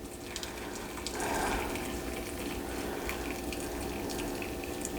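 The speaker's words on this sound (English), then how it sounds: "Let's pour that wonderful juice mixture down in here." Hot, just-boiled lime juice mixture pours into a jar of radishes, a soft continuous trickle and gush of liquid that swells briefly and then settles, heard alone at low volume.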